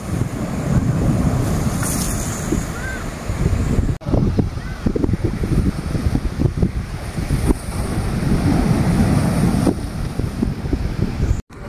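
Loud sea waves roll and crash on the shore at Dhanushkodi, with strong wind buffeting the microphone and a steady roar of surf filling the whole stretch.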